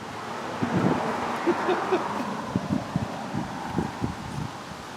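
Gusty wind buffets the microphone outdoors beside a vintage camper, a steady rumble broken by low thumps and rustling as it shifts in strength.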